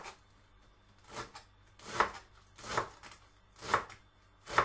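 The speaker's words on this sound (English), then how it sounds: "So just chop where the stalks are." A knife chops through fresh herb stalks on a cutting board in a home kitchen, giving six crisp, evenly spaced thuds close up with quiet pauses between them.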